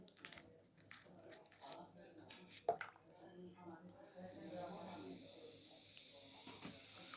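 Cola foams up after Mentos are dropped in, starting as clattering and handling noises with voices, then shifting into a steady, close fizzing hiss that carries on to the end.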